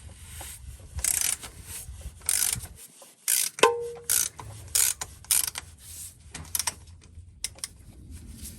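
Oil filter cap being loosened on a Ford V10 E-450 Class C motorhome: close, irregular ratcheting clicks and metallic taps come in short bursts, broken by brief pauses and a faint squeak.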